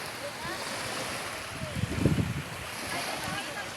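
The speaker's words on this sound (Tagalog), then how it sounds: "Akong background ang dagat." Sea waves wash continuously on a beach, with a broad hiss of surf and wind. A swell of breaking water peaks midway, and faint voices are audible in the background.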